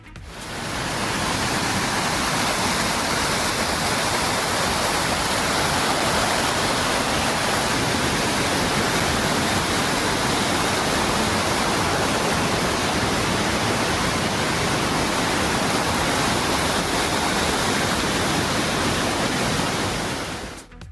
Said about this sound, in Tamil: மலைப்பாதை படிக்கட்டுகளில் தண்ணீர் ஆர்ப்பரித்து கொட்டியதால்